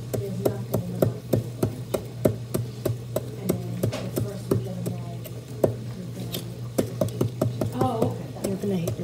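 Repeated sharp hammer strikes on a gem, irregular but steady, fairly close, with a low hum and occasional voices underneath.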